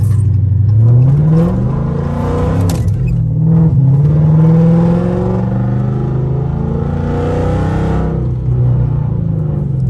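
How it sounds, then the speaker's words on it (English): Catless SRT Dodge Charger revving hard while sliding through a corner, its loud raspy exhaust rising and falling in pitch as the throttle is worked, close and continuous with a rumbling undertone. "I'ma slide this corner too"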